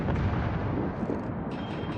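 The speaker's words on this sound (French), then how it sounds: "on aura beaucoup plus de chance d'avoir les 3 canons pour beaucoup plus de puissance" Heavy battleship cannon fire in the World of Warships naval combat game, a dense, loud rumbling barrage of booming blasts that rolls on continuously for the whole stretch with no talk.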